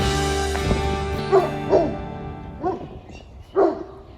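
Neighbouring dogs on a farm give a handful of loud, close barks and yips spaced a second or so apart, with a low steady hum running beneath them.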